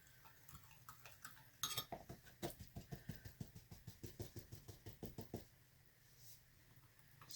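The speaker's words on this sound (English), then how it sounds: "So stirring really well." A utensil stirring a bath truffle mixture in a bowl, a quiet run of regular scraping clicks in a steady rhythm, close and faint, with no talking.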